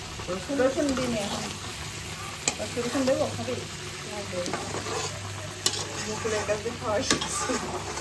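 Red amaranth greens stir-fried in a pan make a close, continuous sizzle, with repeated scraping and stirring strokes and occasional sharp clinks of a utensil against the pan.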